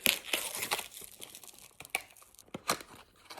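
A plastic package holding a collagen neck mask is opened in a run of close crinkling and tearing rustles with a few sharp crackles, irregular and fairly quiet, with no talking.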